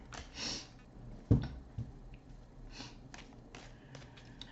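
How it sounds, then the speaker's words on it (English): A few short nasal sniffs and snorts break a quiet room, with one sharper close breath in the middle and faint tapping between. "Now I got the sniffles."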